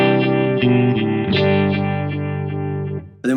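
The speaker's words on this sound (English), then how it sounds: "So with the depth and resonance on full on a 2-stage phaser, it sounds like this." Electric guitar through a 2-stage phaser pedal with depth and resonance at full, a sustained chord swirling with a loud, rhythmic sweep that pulses repeatedly, heard alone before a brief fresh strum at the end.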